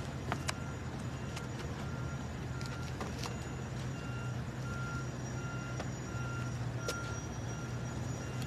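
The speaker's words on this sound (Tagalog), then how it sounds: "Basura truck. Ayan, umatras siya." Garbage truck reversing with a steady series of backup beeps over a constant engine rumble, heard at close range with no talking.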